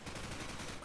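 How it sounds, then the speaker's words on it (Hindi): Rapid gunfire from the video game Call of Duty 4: Modern Warfare, a quiet, dense burst of automatic shots rattling in quick succession with no pause. "यहाँ पे फायरिंग पे फायरिंग चल रही है।"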